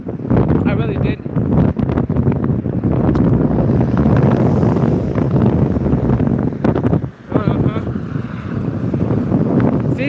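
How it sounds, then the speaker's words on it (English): Strong outdoor wind at a truck stop buffets the microphone in loud, continuous roaring gusts, with someone talking underneath throughout. "it is windy. And I didn't realize it was this windy outside."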